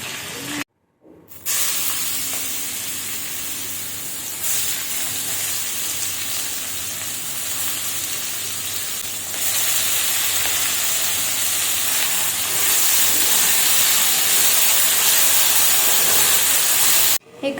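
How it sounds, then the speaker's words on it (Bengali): Fish fries in a pan with a loud, continuous sizzle and hiss that grows brighter partway through, heard up close with no talking. "এবার মাছটা ভাজবো।"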